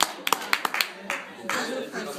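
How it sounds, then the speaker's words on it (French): A small audience gives a brief, sparse round of applause: a handful of distinct claps in quick succession, then a short burst of mixed clapping, fairly close and light. "Ah, il y avait un petit applaudissement,"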